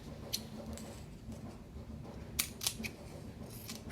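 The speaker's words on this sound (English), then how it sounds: "you want to just cut that piece off" Several short, crisp snips of scissors cutting fabric, close by, scattered over a quiet low background hum.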